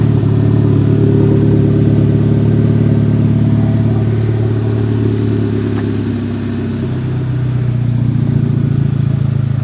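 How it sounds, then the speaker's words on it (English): A cold VW GTI engine settling into a steady idle after coming off fast idle, a close, loud, even low hum with a slight dip in pitch partway through. "So it's come off its fast idle there. It's cold."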